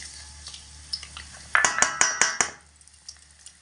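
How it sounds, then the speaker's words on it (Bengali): Garlic and broken dried red chillies fry in hot oil, with sharp scraping stirs and clinks of a spoon against the pan. A few louder bursts come near the middle over a faint sizzle, with no talk. "রসুন আর লঙ্কাগুলো লাল লাল করে ভেজে নেব"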